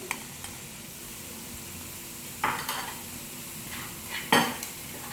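Onion and tomato dropped into goat mince cooking in a pan, with a steady low sizzle and two brief louder stirring scrapes partway through.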